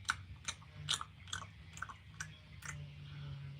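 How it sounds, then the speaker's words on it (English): Someone chewing gum up close, a string of soft wet clicks and smacks in an uneven rhythm, over a low background hum, with no speech. "Try chewing gum instead."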